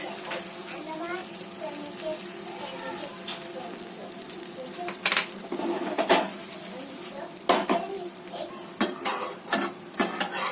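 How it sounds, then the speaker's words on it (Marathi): A sandwich toasting in a pan on medium heat sizzles steadily under a voice, with sharp clanks and scrapes of a spatula against the pan and a voice in the background. "आणि हे मीडियम हीटवर एक पाच मिनिट टोस्ट करायचं आहे"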